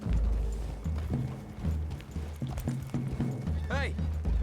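Horses' hooves clop in an uneven trotting rhythm close by in the video game Red Dead, with a brief whinny near the end and faint voices underneath.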